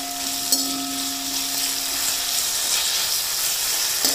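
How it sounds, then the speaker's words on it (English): Chopped onions, green chilies and ginger garlic paste fry in hot oil in a pan for a restaurant-style vegetable biryani, giving a steady, close hiss and sizzle throughout with no talk. "allow this to fry till onions are like translucent"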